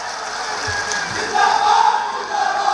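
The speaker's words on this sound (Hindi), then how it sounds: "तालियों की गूंज से महाराज आपका हम सब स्वागत करते हैं" A crowd at a political rally in Amethi, India cheers and shouts in a dense, moderately loud roar that swells toward the end.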